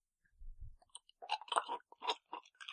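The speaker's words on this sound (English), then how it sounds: "Please don't spit that ice cube onto the microphone. Just crunch it betwixt your teeth." Ice cube crunched between teeth close to a microphone, a string of crisp, irregular crackling bites after a brief low thump, loud and near with no talking.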